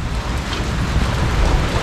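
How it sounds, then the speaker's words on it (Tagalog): Steady rain falls with a continuous, even hiss and patter close around, with no voices and no breaks. "Laging umuulan par."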